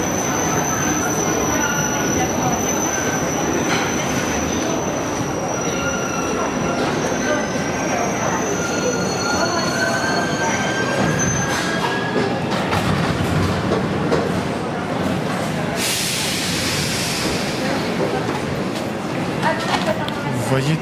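A Paris metro train pulls into an underground station with loud, sustained high-pitched wheel squeal over rumbling carriages and clatter, someone talking over the noise.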